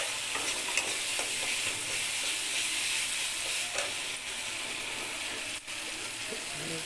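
Spice paste frying in oil, a continuous bright sizzle and crackle heard close, with faint stirring scrapes and a brief dip near the end.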